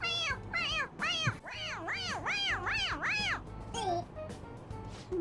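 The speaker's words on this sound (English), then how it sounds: "It meows when you press on its head." A toy cat in the Persona 5 Royal video game meows when its head is pressed, giving a run of clear, rising-and-falling electronic meows in quick succession over game background music.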